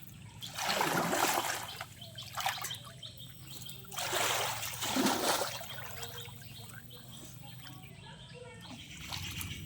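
Water splashing as someone bathes in a village pond, two loud splashy surges followed by gentler trickling and lapping, close by, with birds faintly in the background.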